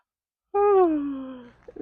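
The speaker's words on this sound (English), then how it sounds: "Take a nice big yawn." A single long, drawn-out yawn with a falling, groaning pitch, close and clear, followed by a soft breath.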